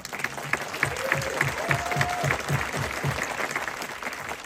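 Applause rises at a film festival Q&A for the editor of the silent film Secrets Out, a steady wash of clapping from an audience with a voice and a faint whistle heard over it.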